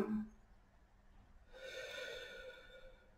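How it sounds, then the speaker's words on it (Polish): During a seated breathing exercise with the chin tucked toward the chest, a person draws a slow, steady breath in through the nose, close to the microphone. A short snort-like puff comes first. "Wdech nosem."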